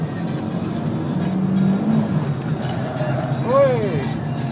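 A Fiat Uno Sporting race car on a track day circuit, its engine droning steadily from inside the cabin and then climbing in pitch as it accelerates, with voices talking over it.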